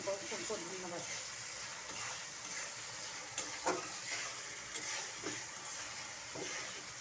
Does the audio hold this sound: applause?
no